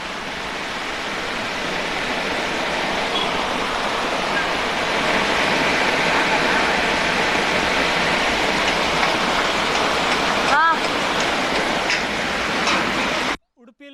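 Heavy monsoon rain pours down in Udupi during a red-alert downpour, a dense, steady roar that stays loud and close for most of the clip before cutting off abruptly near the end.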